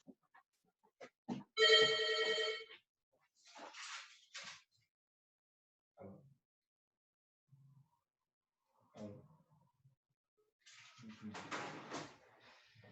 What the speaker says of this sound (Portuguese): peço desculpas, eu vou desligar aqui o telefone